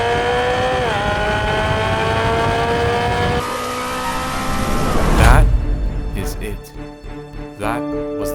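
A BMW M3 track car on a hard lap, its engine loud and strained at high revs, then shifting down and jolting over curbs with thumps and bumps near the end, while a voice talks over it.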